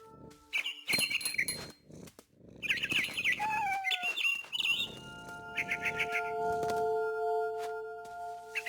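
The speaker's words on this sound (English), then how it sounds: "It was a barn swallow going back to her nest." Barn swallow chirping in the video game What Remains of Edith Finch, bursts of high, bright tweets and trills, with a soft purr-like rumble and tonal background music, close and fairly loud.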